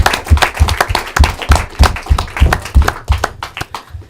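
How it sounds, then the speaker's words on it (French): A small crowd at a closing ceremony for a crafts and local-produce open day claps for the final raffle prize, with close, loud, uneven hand claps beating in a quick rough rhythm. "On applaudit ce dernier lot"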